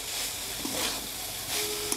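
Vegetables for biryani sauté over low heat in a pan, giving a soft, steady sizzle with faint stirring scrapes, quiet and continuous with no talk.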